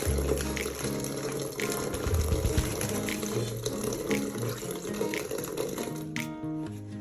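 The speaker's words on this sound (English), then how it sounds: "use it to cover our hands while turning off the" Water runs steadily from a faucet during handwashing, a continuous splashing stream under a tonal background hum, with no talk.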